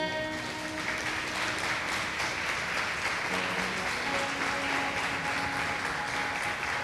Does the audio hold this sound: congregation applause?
yes